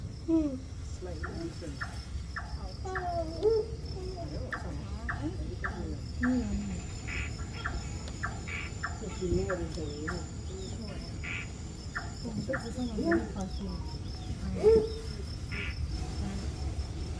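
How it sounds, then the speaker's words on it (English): A chorus of crickets chirps in a tropical night forest during a tram ride, with steady pulsing trills. Scattered frog- and bird-like calls sit alongside a narrating voice. "All set against a chorus of crickets."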